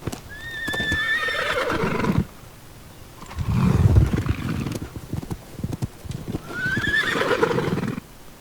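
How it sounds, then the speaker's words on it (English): A horse neighs loudly twice, shrill whinnies separated by snorting and heavy breathing, with hoof noise in between. "So the sound of the horse is going to be normal speed"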